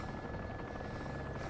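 Helicopter flying in DayZ, its rotor churning as a dense, steady thrum that stays loud and unbroken throughout, with no voices over it.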